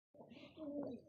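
Pigeons cooing at a doctor's pigeon loft: one short, soft throaty coo, close by, with light chirps over it, lasting about a second.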